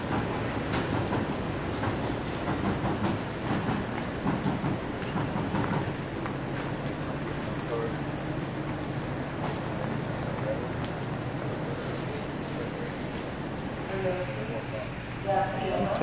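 Heavy rain falling around a parked 2015 Chevy Camaro convertible, a loud dense patter with low rumbles of thunder, continuous throughout, with someone speaking under it.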